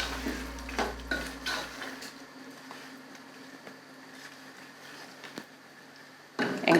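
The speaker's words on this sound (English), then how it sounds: "I'll give it another stir." A spoon stirs Ghanaian kontomire stew with shrimp powder and steamed beef in stock, making close clinks and scrapes against the pot over a low background hum, then a louder knock near the end; no talk.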